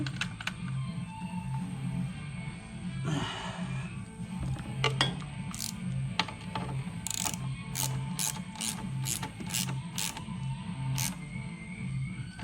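Ratchet clicking as a bolt is driven into a Navitas 600 amp golf cart controller on a 2013 Yamaha G29 Drive, a run of sharp, evenly spaced clicks over a low steady hum.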